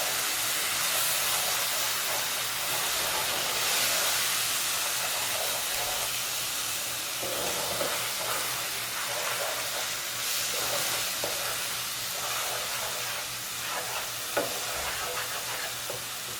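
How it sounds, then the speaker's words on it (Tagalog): Spices for a seafood boil tempering in butter in a pan, giving a steady, close hiss and crackle that runs on without pause and with no voices. "So, just cook your spices. Okay. So, it's like tempering your spices."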